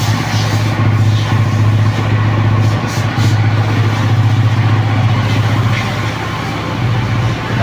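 A motorcycle on a dyno during an ECU remap drones with a loud, steady, close engine note that holds near one pitch with slight rises, over a noisy workshop background.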